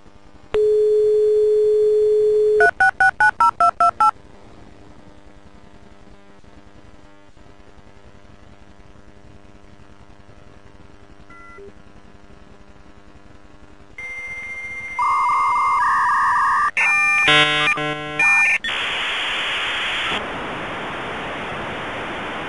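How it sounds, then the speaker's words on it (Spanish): Old dial-up modem connecting: a steady dial tone, quick bursts of dialing tones, then a run of handshake screeches, warbles and beeps that end in a dense hiss of static, with no voices. "Ahora escuchemos cómo sonaba el módem de esa época."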